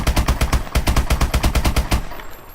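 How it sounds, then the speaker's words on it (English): Rapid full-auto fire from an MK14 rifle with a boosted fire-rate perk in Call of Duty: Advanced Warfare, about twenty sharp shots in an even fast rhythm before the burst stops abruptly. "This is how fast the Desecrator will fire with the +2 rate of fire."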